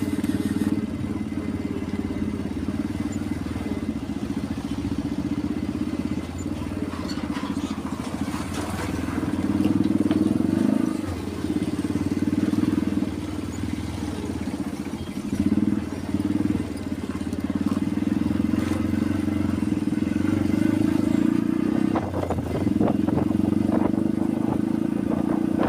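Motorcycle creeping and filtering through a queue of traffic at a railway crossing, a steady low engine drone with rumbling throttle swells throughout, near and continuous.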